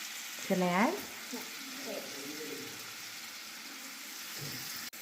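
Broccoli sizzling in a hot pan with butter, a steady frying hiss that runs throughout, with a voice talking over it near the start.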